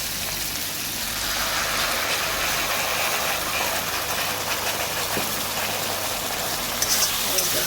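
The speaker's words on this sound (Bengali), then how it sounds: "টমেটো আর পেঁয়াজটা আমার ফ্রাই হয়ে গেছে, এবার মশলার পেস্টটা আমি এটার মধ্যে দিয়ে দেবো।" Spice paste frying in a pan with onions and tomatoes for a fish curry, a steady close sizzle and crackle with a couple of brief knocks near the end and no talking.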